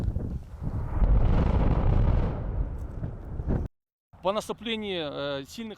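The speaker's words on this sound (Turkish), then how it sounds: "dağlık alanlarda ise patlama işlemeleri gerçekleştirilmektedir" A heavy rock-blasting explosion at a mountainous railway construction site roars out and rumbles for a few seconds before cutting off, followed by someone speaking.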